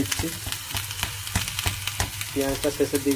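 Onions, with green chillies alongside, sizzle steadily in a pan while a metal spatula stirs them, making repeated scraping strokes against the pan over the constant close frying hiss.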